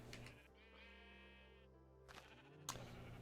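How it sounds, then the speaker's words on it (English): Sheep in a modded Minecraft game bleat in clear, wavering cries, one long bleat followed by shorter ones, loud and close, with a voice briefly under them. "Hello, all of you sheep"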